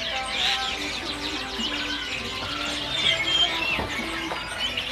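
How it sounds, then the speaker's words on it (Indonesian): A Kalimantan white-rumped shama (kacer), in song form for sale at a bird market kiosk, gives bright chirps and whistled phrases over a busy backdrop of other caged birds chirping nearby. "Ini ada kacer yang sudah gacoran teman-teman."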